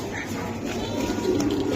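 Giribaz pigeons coo close by in a loft, their low soft calls blending into a steady murmur over roomy background noise.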